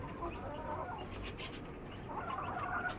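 A rooster and chickens cluck softly in a steady, low chatter, slightly distant, over constant background noise with a few sharper calls toward the end.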